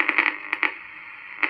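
Old Indonesian shortwave radio under repair, picking up an RRI Palangkaraya broadcast: brief bursts of tinny, band-limited sound over a steady hiss, a cluster of short pulses early and another lone blip near the end, fairly quiet.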